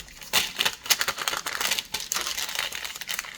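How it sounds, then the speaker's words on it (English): Crunchy tracing paper crinkled close up in a run of sharp, dense crackles and rustles, loud and alone with no voices. "Don't you just love the sound of that crunchy tracing paper?"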